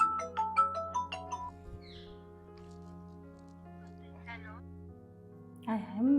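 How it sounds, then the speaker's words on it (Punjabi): A phone ringtone plays a short repeating melody, then stops; voices are heard over and after it. "ਹਾਏ ਹਾਏ ਕਿਹਦਾ ਫੋਨ ਆ ਗਿਆ ਹੈ"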